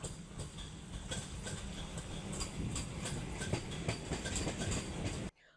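A passenger train rolls along the tracks with steady rumble and repeated clickety-clack beats from the wheels, moderately distant, cutting off abruptly at the end.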